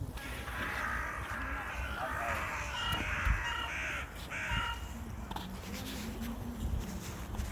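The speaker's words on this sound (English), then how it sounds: "Is this a white crow or something?" A crow caws repeatedly outdoors in nature, its harsh calls coming in several bursts over steady background noise, with faint voices now and then.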